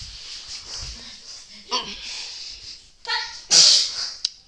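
A sharp sneeze bursts out near the end, following breathy sniffs and wheezy sounds, with faint voices in the background.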